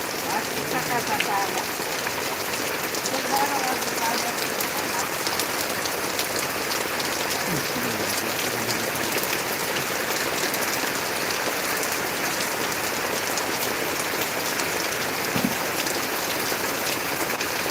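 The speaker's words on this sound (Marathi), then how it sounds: "खूप पाऊस आहे खूप खूप" Heavy morning rain at a farm, a loud, dense, continuous hiss of drops pattering on surfaces with no letup.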